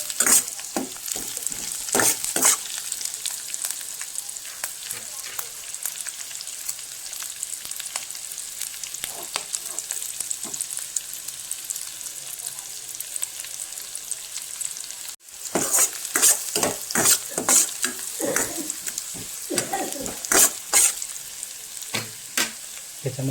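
Egg chilli with onion and capsicum frying in a pan over low gas, a steady hiss punctuated by frequent scraping stirs and clacks, busier at the start and end with a brief quieter stretch midway.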